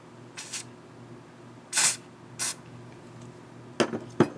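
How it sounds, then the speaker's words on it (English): Finishing facial spray misted from a pump bottle in a few short hissing bursts, some singly and some in quick pairs, close up with near silence between. "I'm going to let that dry and then spray it with the finishing spray."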